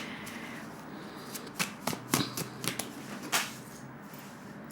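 A tarot deck being shuffled up close, with a run of crisp papery riffles and slaps as cards scatter loose, arriving in uneven bursts over a soft room hush.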